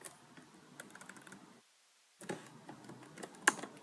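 Typing on a computer keyboard while writing React code, quiet close clicks and taps in a brisk irregular run, pausing briefly before resuming with one sharper key strike.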